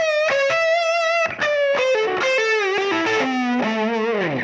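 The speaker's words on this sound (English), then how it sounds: "something that gives me like a slide kind of sound? You know, this kind of..." An electric guitar through distortion and chorus effects plays a sliding line, notes gliding downward in pitch with a couple of brief breaks, loud and close with no talking.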